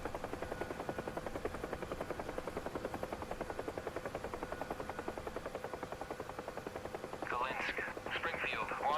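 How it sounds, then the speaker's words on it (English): Huey helicopter rotor in DCS World, a steady rapid thudding chop with a fast, even beat throughout, while a voice speaks briefly near the end. "it's not the prettiest helicopter, but it is a lot of fun to fly."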